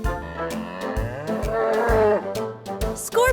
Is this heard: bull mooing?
yes